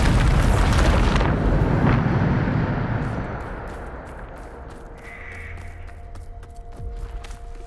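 A Bombarda explosion spell from the video game Hogwarts Legacy goes off in a loud, close blast at the start, then trails into a fading rumble with faint ticking debris.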